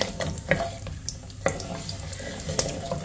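Whole spices and dried lime toasting in hot fat in a pot for Emirati chicken machboos crackle and sizzle, with sharp pops and stirring clatter over a steady frying hiss, close and without talk.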